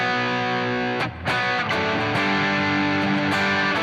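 Crunchy overdriven electric guitar with slightly reduced gain, strummed chords ringing out with a brief pause near the one-second mark, then sustained harmonically rich distortion, played alone and up close.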